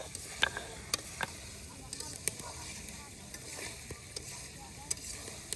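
Spices frying in a pan during a Bede family's outdoor cooking in Bangladesh: a bright, continuous sizzle broken by sharp clicks and scrapes of stirring at irregular intervals.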